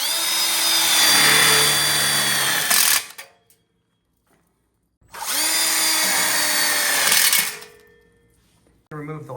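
A power drill drives screws into the frame of a DIY outdoor kitchen grill platform kit, with two loud, close whirring bursts of about three seconds each separated by a short silence.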